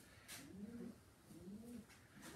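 A racing pigeon coos softly in two rounded, repeating phrases at close range, with faint background rustle between calls.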